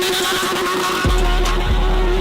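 A Suzuki Hayabusa motorcycle drifting on a mini track: a loud, close engine holds a steady note while tire skidding and squealing rasp over it, with two sharp surges partway through.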